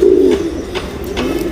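A pigeon coos close by in low, rolling, throaty calls, one long coo followed by softer repeated ones, loud and alone with no voices.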